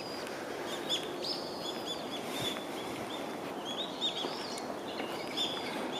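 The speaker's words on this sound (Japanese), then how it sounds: "鳥の鳴き声が非常に気持ちがいいですね。" Small birds chirp and tweet beside a pond on temple grounds, with repeated bright calls scattered over a steady outdoor hush at moderate distance and no voices.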